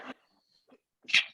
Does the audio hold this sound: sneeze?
yes